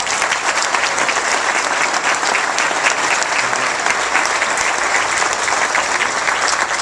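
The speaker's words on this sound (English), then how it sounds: "if we could give them a round of applause for all they've done" A large audience breaks into loud, steady applause for departing members, dense clapping from many hands sustained evenly throughout.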